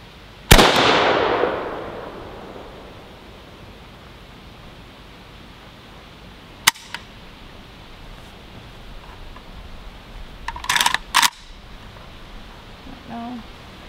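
AR-15 and AK rifle shots outdoors: one loud sharp report with a long decaying tail, then a faint crack, and a quick cluster of closer pops near the end.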